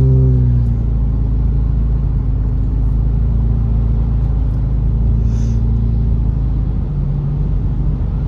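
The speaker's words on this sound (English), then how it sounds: "That purple truck." A purple truck passes on a snowy road in Big Bear, California, heard as a steady, loud, close engine rumble with constant road noise throughout and no talk.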